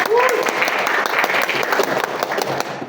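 Audience applause for AMS, a steady burst of clapping from a crowd in a room, loud and continuous for a few seconds before starting to fade.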